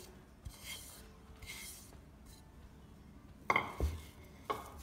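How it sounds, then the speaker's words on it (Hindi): Grated jaggery being mixed by hand into sifted flour for anarsa sweets: quiet soft rubbing and scraping strokes, with a few sharper taps against the bowl toward the end and no talking. "अब जो गुड़ मैंने लिया था वो ग्रेटेड गुड़, वो अब मैं इसमें मिक्स करूँगी"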